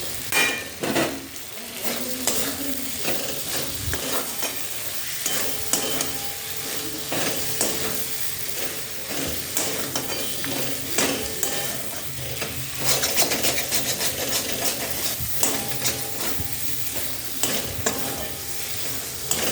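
Vigorous stirring of fried pointed gourd in masala in a sizzling metal wok, with repeated scraping and clattering of a utensil against metal over continuous frying noise.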